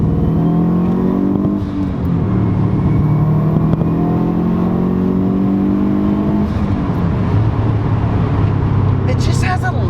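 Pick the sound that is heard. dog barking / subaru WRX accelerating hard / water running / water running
subaru WRX accelerating hard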